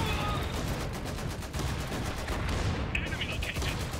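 Sustained battlefield gunfire in the Iron Harvest video game, a dense continuous rattle of machine guns and explosions filling the whole stretch at high, even loudness.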